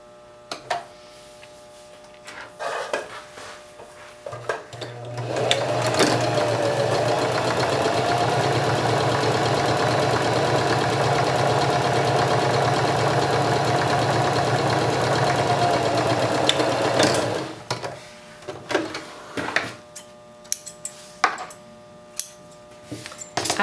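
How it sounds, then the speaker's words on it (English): A sewing machine stitches a 5/8 inch seam through two layers of fabric placed right sides together, running as a steady fast whirring hum for about twelve seconds, with quieter clicks and handling before and after. "I have my fabrics right sides together, and I'm going to sew a 5/8 inch seam."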